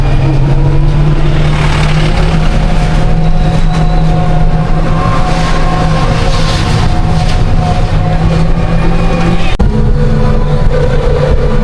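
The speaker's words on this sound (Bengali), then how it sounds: "এই যে আমি এখন অটোতে উঠে গেছি" An auto-rickshaw ride with the engine running: a loud, unbroken engine drone and road rumble fill the whole stretch, and a brief sharp knock cuts in near the end.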